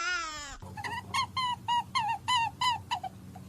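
A series of repeated honking bird calls, evenly spaced and fairly close, following a brief rising tonal squeal, over a low steady hum.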